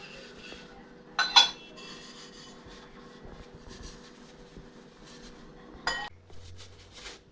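Dishes being washed at home, with quiet scattered clinks of pots and utensils and two sharper clatters standing out against a low background.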